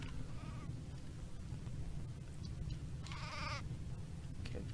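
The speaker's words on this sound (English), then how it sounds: "Okay, bunch of cave sheep and stuff." Cave sheep in the video game Craft The World bleat twice, brief nasal calls over a constant low game ambience, with no talking.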